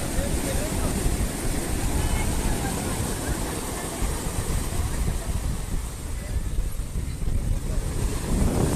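Sea waves wash steadily on the coast at Porbandar under strong wind buffeting the microphone, a continuous rushing roar with faint voices mixed in.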